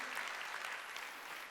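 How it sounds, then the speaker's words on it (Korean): A church congregation claps together during a Sunday worship service, a steady dense wash of hands lasting a moment at moderate distance, with no voices above it. "믿으면 박수"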